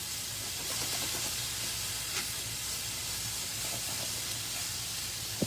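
Potatoes sizzling in a Lodge carbon steel pan: a steady, even frying hiss fills the whole stretch with a few faint clicks, and there is no talking.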